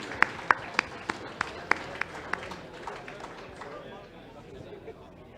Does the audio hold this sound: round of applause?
yes